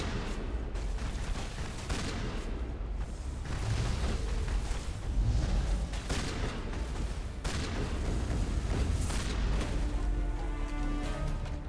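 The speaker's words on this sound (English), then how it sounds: "Explosion." Explosions and heavy gunfire in the Mass Effect video game burst out in repeated loud, crashing blasts with rumbling low ends. Dense, chaotic combat noise fills the entire stretch, with no voices heard.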